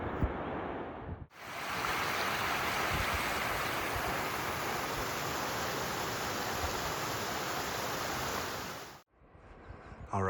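Shepherd's Creek, a mountain stream in California's high Sierra, rushes with a loud, steady broadband wash, close by and unbroken for most of the stretch, cutting in and out at the edges.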